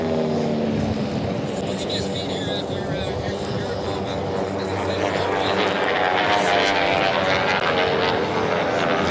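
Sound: T-6 racing airplanes flying at Reno Air Races

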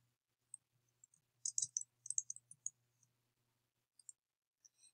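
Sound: mouse click signing a document on a computer

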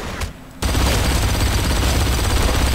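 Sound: mounted machine gun firing in Blacksite Area 51 video game

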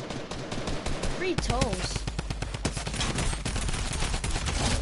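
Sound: gunfire from guns in a video game

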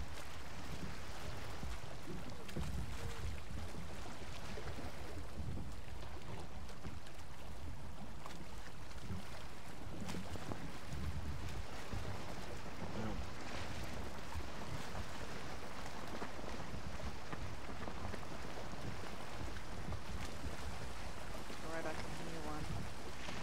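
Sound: old wooden boat creaking at sea in the video game Valheim

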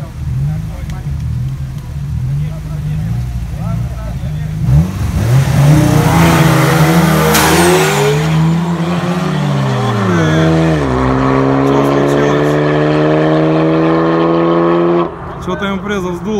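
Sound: 400 hp Volkswagen Golf with launch control racing a Camaro

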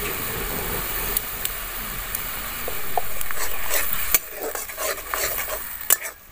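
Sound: mustard seeds and green chili frying in oil, stirred

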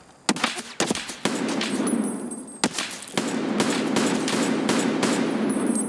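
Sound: gunfire through a door in video game Escape from Tarkov

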